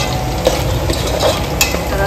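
Garlic is tipped into a hot pan of frying ingredients and stirred, giving a loud, continuous sizzle with scraping stir strokes throughout, close up and without talk.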